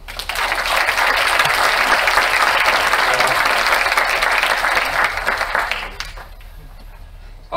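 Conference audience applauding after a talk: dense, loud sustained clapping from a crowd filling the room, holding steady for about six seconds before tapering off into near quiet.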